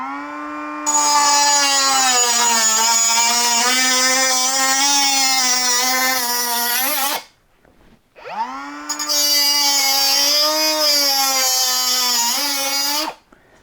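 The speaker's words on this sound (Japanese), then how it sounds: "ではちょっとこれ切ってみます。 ビニールハウスのパイプですね。" A Makita 18V compact cutter slices through steel greenhouse pipe in two long passes, each a loud, high, steady grinding whine lasting several seconds, split by a short pause with no talking.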